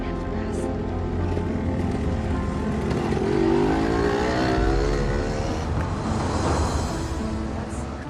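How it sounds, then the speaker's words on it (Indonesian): A car engine runs steadily as the car is driven in to park, a continuous low hum with slight revving and some background noise. "suami saya mau parkir mobilnya"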